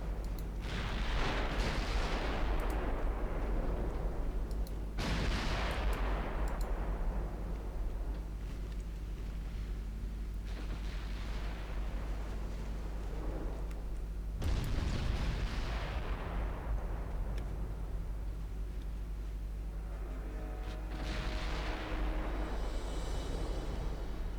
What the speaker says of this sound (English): those 15-inch guns are starting to hit now